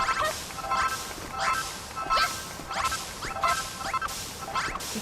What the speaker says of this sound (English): they only have 3 small parakeets who, when they hear me mostly, they start talking